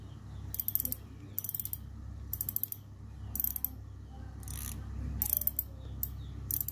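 Kenzi Orion SW saltwater fishing reel with its clicker engaged, giving repeated bursts of crisp rapid ratcheting clicks close up, with short pauses between spins over a low background hum.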